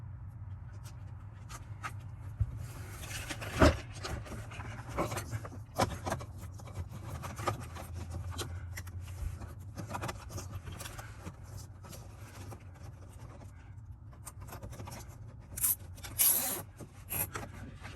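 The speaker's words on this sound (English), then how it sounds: "I'm also going to zip tie the brake controller line up here." Zip ties are cinched around a wiring line inside a Jeep Gladiator during a throttle controller install. Scattered close ratcheting zips, rubs and scrapes sound over a low background hum.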